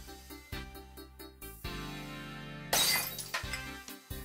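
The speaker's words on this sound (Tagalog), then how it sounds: "Una, nahulog na baso." A loud glass shatter bursts out midway, set against a steady background of repeating musical tones.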